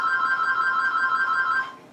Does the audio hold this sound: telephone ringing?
yes